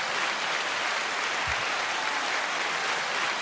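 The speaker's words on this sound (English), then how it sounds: "9-second applause." Steady studio applause from a radio show audience welcoming a guest, an even wash of clapping throughout with no speech.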